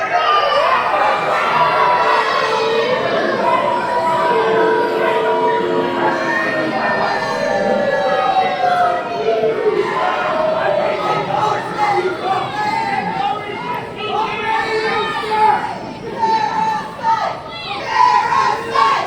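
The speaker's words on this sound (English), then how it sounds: "The crowd here absolutely not having it right now with the number one contender." A wrestling crowd at an NBWA heavyweight championship show shouts, jeers and cheers loudly and without a break against the number one contender, with children's voices rising above the dense, continuous roar of the arena.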